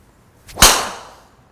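A TaylorMade SIM driver with a 10-gram weight in the toe strikes a golf ball, one sharp, loud crack with a short fading tail, heard alone outdoors.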